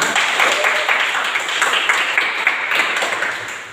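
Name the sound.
applause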